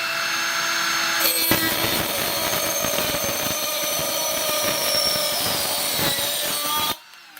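Milwaukee M12 Fuel straight die grinder running at full speed: a loud, steady high-pitched whine holds for about six seconds, then cuts off abruptly.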